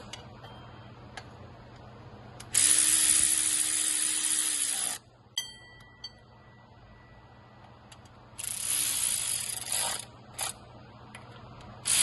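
A ratchet tightens 10 mm bolts on a 2007 Chevy Trailblazer SS water pump, heard as bursts of rapid close clicking separated by short pauses, crisp and fairly quiet against a faint background hum.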